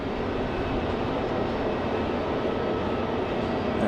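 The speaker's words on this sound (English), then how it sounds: "An E190 headed back to Mexico City." An Aeromexico Embraer E190 jet airliner roars steadily at a rainy airport, a dense, broadband engine rumble holding constant and loud throughout.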